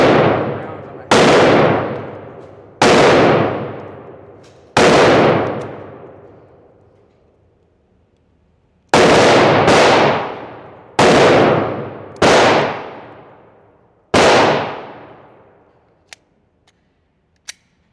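Seven loud, close pistol shots from a Glock 25 Gen 3 at a shooting range, fired singly at uneven intervals with a ringing decay after each, followed by faint clicks.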